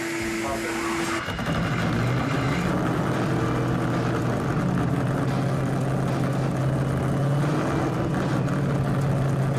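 A supercharged engine in a big red Camaro revs hard on a dyno, its steady, loud, droning roar holding for several seconds with no break.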